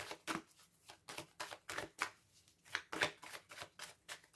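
Tarot cards being shuffled by hand close up, a steady run of about a dozen crisp papery riffles and slaps in an even rhythm, with no talking.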